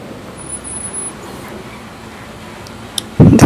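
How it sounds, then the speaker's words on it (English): A bus engine rumbles low and steady as the bus pulls over in the visual novel Everlasting Summer, with a loud burst of engine noise close by at the very end. "The sound of an engine brought me back to reality. A bus pulled over."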